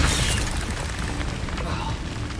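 A Confringo fire spell blast in the Hogwarts Legacy video game, a dense booming burst that fills the short clip with rumbling, crackling energy at steady loudness.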